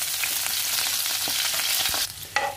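Shallots and curry leaves fry in hot coconut oil over mustard seeds, a dense close sizzle that drops off sharply near the end, with a few stirring knocks and no voices.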